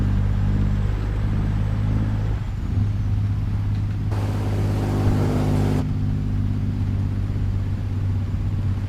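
Tesla Semi electric truck driving in American Truck Simulator, a steady low rumbling drone with a soft hum that stays even and continuous, with a brief brighter wash of road noise partway through.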